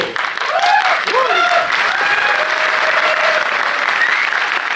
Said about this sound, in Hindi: जो पी के आए हैं वो लोग ताली बजा रहे हैं।